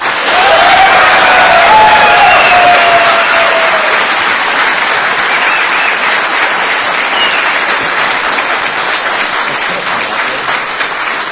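A live audience at a Legacy cast Q&A breaks into sustained applause, a dense wash of clapping that starts strong and gradually thins while continuing to the end.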